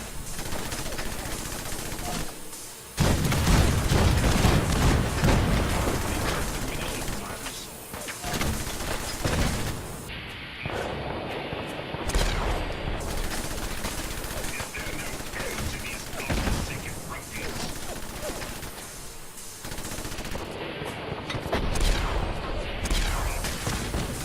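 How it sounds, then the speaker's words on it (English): The shipboard cannons of the USS Constitution fire in Fallout 4 as a long barrage of loud, booming shots. They come in dense clusters, then a few heavy separate blasts, with game sounds running underneath the whole time. "Can I fire cannons a second time?"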